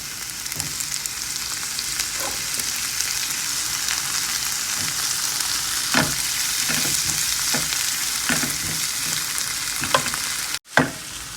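Tomatoes sautéing in a pan for dhaba-style tadka Maggi: a steady, close sizzle with scattered soft scrapes and clicks of stirring throughout.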